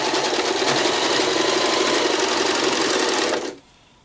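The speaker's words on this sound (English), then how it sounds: "Okay, and then we're just going to sew the other side." Sewing machine running continuously while stitching a pillow cover made from a fleece blanket, close and loud, then stopping abruptly near the end.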